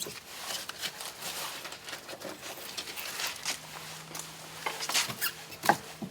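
Soft plastic pipe on a freeze-damaged hot tub manifold being cut, a run of close scraping, rubbing and snipping noises in uneven bursts, fairly loud with no talk.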